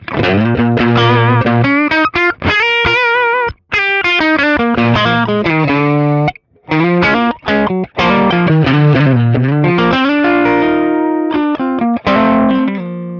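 Electric guitar played through a Kemper profile of a Fender Princeton tube amp, a continuous run of melodic notes and chords with a few short pauses, loud and close, with light effects and ambience and no voices.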